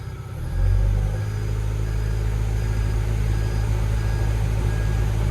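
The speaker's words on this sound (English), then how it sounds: "when I rock this thumb wheel, the auto idle picks up" A Doosan DX140-7 excavator diesel engine on auto idle picks up after about half a second, its low, steady rumble rising and then holding a constant, louder drone to the end.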